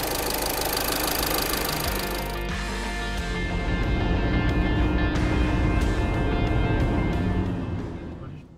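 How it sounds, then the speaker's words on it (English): A VW/Audi car engine, just back from an intake manifold repair, runs at a steady loud idle with a constant mechanical drone and clatter close by, a brief shift in tone partway through, fading at the end. "We now start the vehicle and check if everything is tight."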